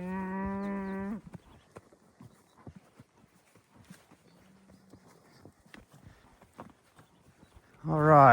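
Cattle lowing loudly from a herd being pushed by riders on horseback through desert country, with scattered hoof clops and movement between the moos, and a person talking faintly in the background.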